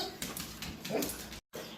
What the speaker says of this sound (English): Here's my puppy dogs, Penny and Bailey.